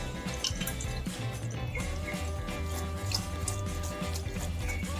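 Soaked sago pearls are strained in a kitchen, giving a steady trickle and drip of draining water with faint clinks.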